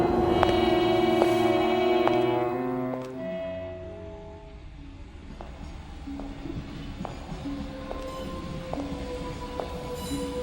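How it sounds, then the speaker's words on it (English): A train rumbles past as a sound effect in an old-time radio drama, starting loud with a sustained whistle-like tone at the beginning, then settling into a steady rolling clatter with faint squeals. "The trains run this early, don't they?"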